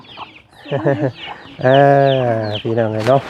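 Chickens cluck around a rural Thai house, the fowl calls mixed with and partly under someone talking loudly nearby.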